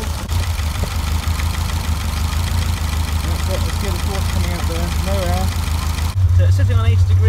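A Ford Pinto 2.0 engine idles steadily after a thermostat change and cooling-system bleed, a continuous low rumble with a strong low-frequency drone throughout; a voice talks over it, and the engine note thickens near the end.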